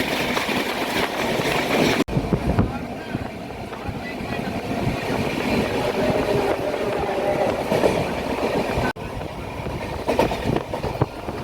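The 22201 Duronto Express runs at night between Sealdah and Puri, heard from inside the coach as a loud, steady rumble of wheels and wind with rhythmic rattling and two brief cuts.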